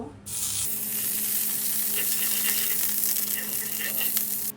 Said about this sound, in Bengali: বাটারটা মেল্ট হয়ে গেছে এখন আমি এটার মধ্যে রুটিটাকে একটু জাস্ট ছেঁকে নেবো